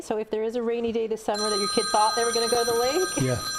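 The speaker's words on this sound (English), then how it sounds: "That's my phone ringing, sorry." A telephone rings during a talk segment, a trilling bell-like tone entering partway through and continuing under a voice that keeps talking in the foreground.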